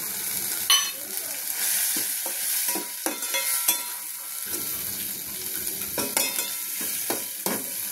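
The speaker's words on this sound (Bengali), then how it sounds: "চিংড়ি মাছটাও হালকা করে কষিয়ে নিলাম" Shrimp stir-frying in a spiced masala for a shrimp-and-okra dish, with a steady sizzle broken by repeated spatula scrapes and stirring clatters against the pan, close and fairly loud.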